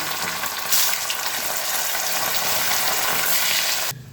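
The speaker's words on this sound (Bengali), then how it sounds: "এবার আলুগুলো ভেজে নেব, তাই তেলের মধ্যে ছেড়ে দিচ্ছি" Steady, loud sizzling of potatoes frying in hot oil, a continuous crackling hiss with a brief louder burst early on, fading slightly at the end.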